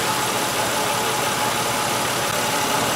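A car engine idles roughly with a misfire on cylinder 5 caused by a fuel injector stuck closed, a loud, steady, close-up mechanical drone without any talking.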